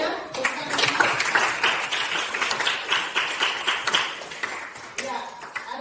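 Students in an Indonesian classroom applaud after a poetry presentation, steady dense hand clapping from a small group for several seconds, with a brief pause before a few final claps.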